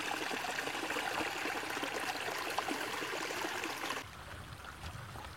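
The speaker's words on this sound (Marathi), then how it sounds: "पाण्याचा आवाज पहा किती येतो ना।" Stream water flowing through the Konkan hills near Alibag in the rainy season, a steady close rushing babble that softens slightly near the end.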